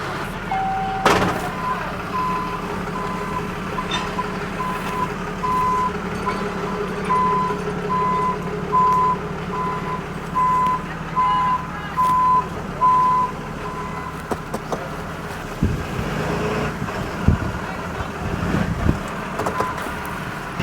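A truck backs up while being positioned for a winching recovery, its reversing alarm beeping in a steady repeating pattern over low engine rumble before stopping partway through.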